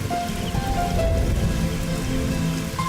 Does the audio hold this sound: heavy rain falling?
yes